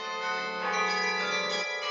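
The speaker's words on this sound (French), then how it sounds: "Le son des cloches, c'est la musique qui a bercé son enfance." Church bells ring steadily in a dense, sustained peal of overlapping metallic tones, fairly loud and continuous, with no voices.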